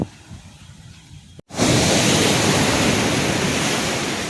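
Sea waves at Parangipettai beach in Tamil Nadu, a deep stretch of water: a quieter wind-blown lull, a brief dropout, then a loud, continuous broadband roar of surf crashing close by with steady wind noise on the microphone.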